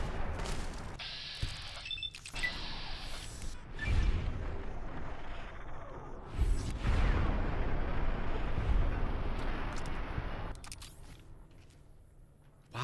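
Enemy gunfire in Fallout: New Vegas, with bursts of booming shots and blasts spread through the clip, loud and close over a busy game soundscape.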